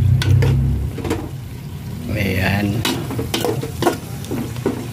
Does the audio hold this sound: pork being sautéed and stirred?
yes